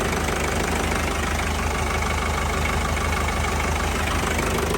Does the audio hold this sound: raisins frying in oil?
no